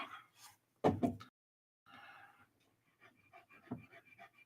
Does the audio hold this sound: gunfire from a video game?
no